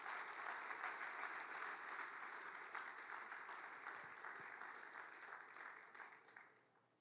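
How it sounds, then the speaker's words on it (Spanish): A church congregation at an evening service claps in praise, a broad sustained wash of applause that slowly fades toward the end. "Ahora sí le puede dar un aplauso al Señor."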